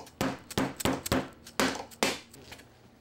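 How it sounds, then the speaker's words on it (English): Aluminum front edge trim tapped onto a particle board slatwall shelf, five or six sharp, close knocks in an uneven rhythm over about three seconds, with no talking. "The aluminum front edge also slips on and is tapped into place."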